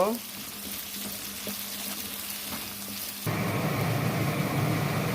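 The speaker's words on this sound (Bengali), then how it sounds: "এটাকে আমি সুন্দর করে একটু লাল লাল করে ভেজে নেব।" Garlic and onion fry in a pan with a pinch of salt, a light crackle that jumps abruptly into a louder, steady sizzle partway through, close and continuous with no talking.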